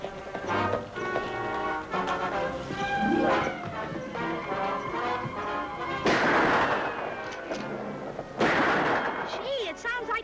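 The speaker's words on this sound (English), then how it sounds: "Sorry, I heard the shots." Several gunshots crack out in a western drama scene, the last two loud, sharp bursts that stand out against a background of music and voices.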